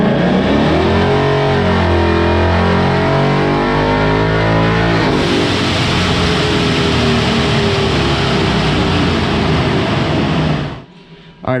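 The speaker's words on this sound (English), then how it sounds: "We've got it on the dyno, about to make a pull." A 2018 Ford Mustang GT with a Vortech supercharger makes a loud fifth-gear dyno pull, the engine roar climbing steadily in pitch, then holding a harsh, sustained howl before abruptly cutting off near the end.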